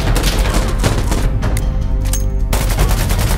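Rapid automatic gunfire bursts in the Insurgency Sandstorm shooter game, loud and close, crackling in dense volleys with a short lull before firing resumes.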